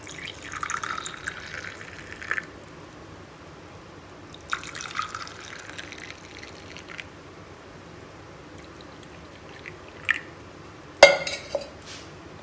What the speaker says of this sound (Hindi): और इसे कप में निकाल लेते हैं।